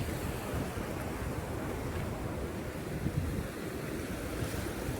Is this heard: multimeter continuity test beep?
no